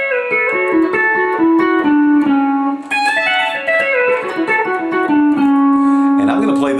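Guitar run played high on the neck at the twelfth position, from a song lesson: a steady, close string of single picked notes, some ringing on and some bent, with a brief dip mid-phrase.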